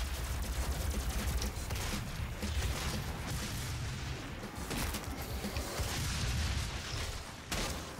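Dense, continuous gunfire from a newly picked-up weapon in the video game Doom, SnapMap level, rapid booming shots rolling one into the next for several seconds at steady loudness, with brief dips.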